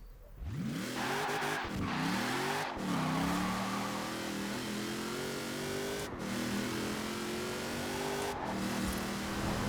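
A car in Forza Horizon 4 drives and accelerates, its engine climbing in pitch through several gear shifts, then holding a steady high drone with brief dips.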